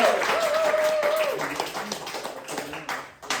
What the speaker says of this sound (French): donnez un applaudissement pour Edouard qui nous joue